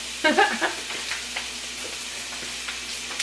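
Vegetables and garlic stirred in a hot pan, with a soft steady sizzle and a few short scraping stir strokes near the start, then a quieter continuous frying hiss.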